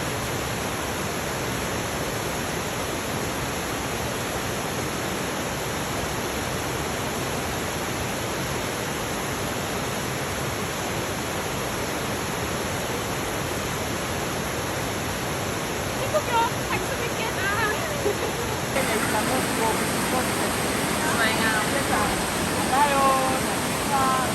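A natural waterfall in Sweden roars as a steady, broadband rush throughout, with brief faint voices of people nearby near the end.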